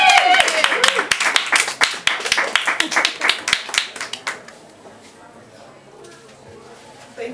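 Audience applause for a comedian at the Edinburgh Free Fringe, brisk close clapping with distinct sharp claps for about four seconds, then fading to a quiet room with faint background talk.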